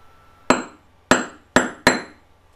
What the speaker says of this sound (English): I like to flatten the wire a bit, so I'm just going to use my ordinary flat-faced hammer.